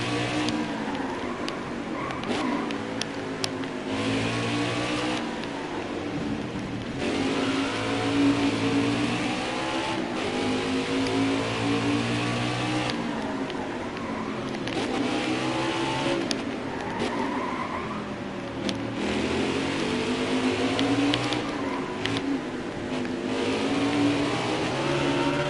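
Race car engines roar and rev through gear changes with tire squeal on the Charlotte Roval in the NASCAR Heat 4 video game, a continuous loud whine rising and falling as the car brakes and accelerates.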